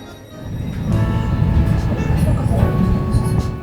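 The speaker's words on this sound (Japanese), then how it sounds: "空港からはね電車で街中を目指します。" A train carries riders from the airport into the city in Finland, its rumble and clattering wheels continuous inside the carriage, with occasional squeals and some voices in the background.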